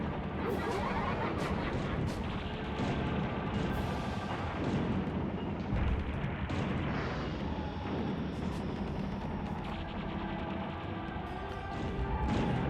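Missile fire and explosions in the car combat game Twisted Metal 2 on a fairly flat map, dense continuous booms, blasts and whooshes with engine drone, loud and close throughout.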